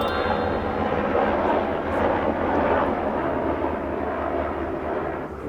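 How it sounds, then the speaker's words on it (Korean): A military helicopter flies overhead in Incheon, its continuous broad, loud rotor and engine roar steady throughout with no voices over it. "지금 약간 뭐 군용 뭐 헬기가 소리가 좀 들렸는데"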